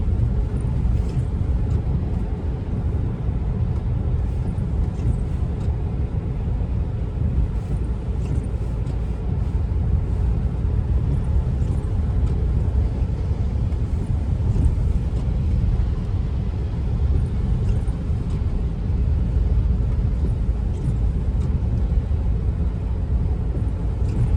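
A Chrysler 300 drives on a rain-soaked road, giving a steady, close tire hiss and low road rumble with constant spray and no pauses.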